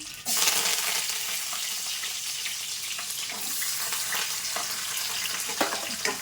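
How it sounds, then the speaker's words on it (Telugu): Onions sizzle and crackle steadily in hot oil with whole spices, a continuous broadband frying hiss with small pops, fairly close, and no talking. "ఉల్లిపాయలు అయితే వేగినాయి"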